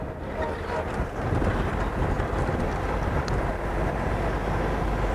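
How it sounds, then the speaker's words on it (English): Steady wind buffets the microphone outdoors on a live African safari, a constant low rumbling roar with no clear breaks and a faint voice barely present underneath. "But it's a bit windy here."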